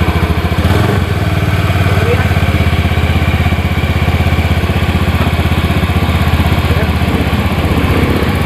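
A Honda Beat FI scooter starts up and settles into a steady, close idle with a busy rhythmic putter, the engine running continuously after a brief starting burst.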